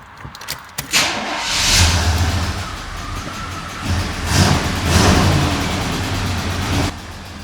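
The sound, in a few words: Blazer engine running with a sticking valve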